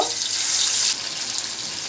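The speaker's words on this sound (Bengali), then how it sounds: "তেল গরম হয়ে গেছে এবার দিচ্ছি আমি একটা একটা করে পলি মাছ মিডিয়াম টু লো আঁচের মধ্যে ভেজে নিব" Foli fish pieces frying one by one in hot oil over medium-low heat, a loud bright continuous sizzle that eases to a steadier, slightly softer crackle partway through, with no talk.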